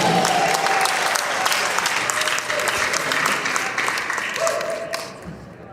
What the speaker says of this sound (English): give a round of applause for Angela